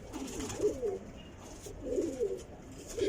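Pigeons of a breeding line coo on a rooftop, two low throaty phrases rising and falling about a second apart, close by and moderately loud over quiet ambient noise.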